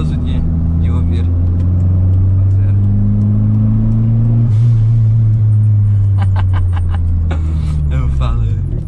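A Ford Ka 1.6 fitted with a turbo kit and a full 2.5-inch exhaust with muffler, rumbling deep and steady as the engine revs, loud and close from inside the car while someone talks over it.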